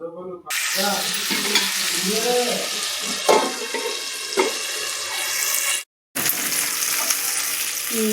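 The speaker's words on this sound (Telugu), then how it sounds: "మళ్ళీ తీసేసి మళ్ళీ నూనె పోసి ఉన్న నాలుగు ముక్కలు వేస్తానండి" Pieces of food sizzle and crackle steadily in freshly poured hot oil in a pan, loud and close. Stirring and scraping noises come and go, and the sizzle briefly cuts out near the end before resuming.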